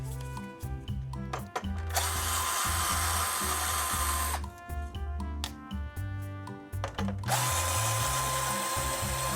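A power screwdriver backs out motherboard screws inside a PS5 console, with several high whirring runs a couple of seconds each, separated by pauses filled with handling clicks, all close and fairly loud.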